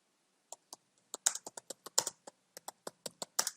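Python code being typed on a computer keyboard: a run of crisp, separate key taps in an irregular rhythm, close and clear, with no talking.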